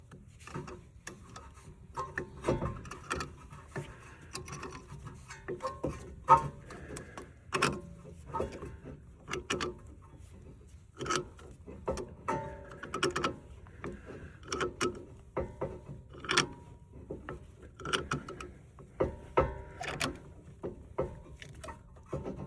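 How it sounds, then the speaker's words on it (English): C-clamp being tightened to push back the brake caliper piston on a 2003 Honda CR-V, using an old brake pad, heard as a steady series of sharp clicking, ticking turns in an irregular rhythm, close and fairly quiet. "we got to take it old school with the C-clamp and an old used pad"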